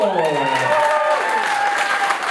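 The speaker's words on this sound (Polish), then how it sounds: "Jeszcze raz wielkie brawo!" Wedding guests applaud at a Polish reception in a steady wash of clapping. A loud, sustained musical tone rings over the clapping and a voice speaks faintly beneath it.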